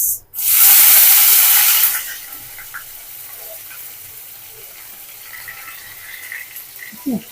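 Onions drop into hot oil in a pan for a catfish curry, setting off a loud, close burst of sizzling hiss that lasts under two seconds and then settles into faint crackling, with light utensil clinks.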